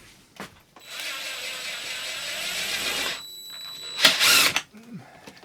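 A power drill drives self-tapping screws into a metal flange while an AC unit is fitted to a 2006 Fleetwood Niagara pop-up camper: one steady whirring run of about two seconds, then a short, sharper burst, both close up.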